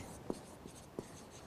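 Chalk or marker on a classroom board gives a few faint, short tapping strokes spaced unevenly over a quiet room.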